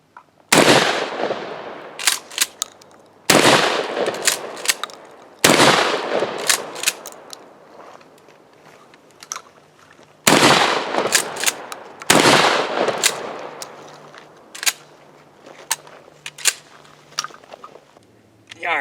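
A Mossberg Maverick 88 Cruiser pump-action shotgun fires outdoors in a series of loud, sharp blasts spaced a few seconds apart, each followed by a brief ringing decay and the clack of handling.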